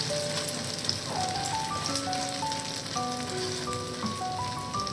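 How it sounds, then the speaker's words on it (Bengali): Food fries in a pan, half-cooked with one side browned. A continuous close crackling sizzle runs throughout, with faint tonal sounds in the background and no talk. "অনেকটাই ভাজা হয়েছে, কিন্তু আরেকটু ভাজতে হবে"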